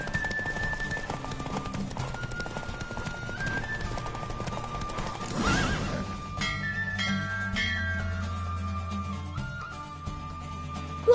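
Horse hooves in the Witcher 3 video game thud in a steady galloping rhythm beneath game music and tones, with a burst of rushing noise midway and a sharp hit at the end.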